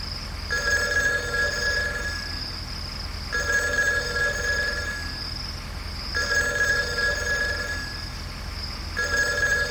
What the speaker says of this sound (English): I think the telephone is ringing in the hut.